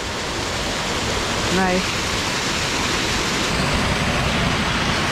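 A creek waterfall pours in a dense, steady hiss that fills the scene throughout, with a brief voice heard over it.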